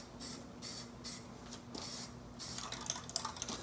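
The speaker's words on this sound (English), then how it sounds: "This little spray contraption is making a huge difference, I'll tell you." Wheels for an SL 550 being spray painted copper with a small spray contraption, giving steady close hissing bursts in repeated passes with brief pauses, growing slightly busier toward the end.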